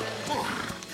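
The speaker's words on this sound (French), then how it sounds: "c'est le joli dada du gentil sergent" A horse in a Zorro cartoon gives a short whinny, brief and fairly soft, blended with other cartoon sounds.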